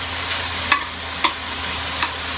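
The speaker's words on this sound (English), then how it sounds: "I'm going to lay the shrimp in the pan." Shrimp frying in a pan for scampi, a steady sizzle close by with a few sharp spitting pops.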